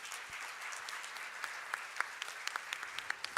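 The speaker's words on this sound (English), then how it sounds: "I'd like us to applaud my panelists for joining us on this particular session" Audience at a trade event applauds panelists, a steady, close wash of clapping lasting the whole moment with a few sharper individual claps standing out near the end.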